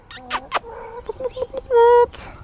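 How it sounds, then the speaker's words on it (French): Small backyard hens cluck and cackle up close, a string of short clucks followed by a longer drawn-out squawk, fairly loud and with no talking over them. "Regardez comment elles sont trop mignonnes ces petites poules."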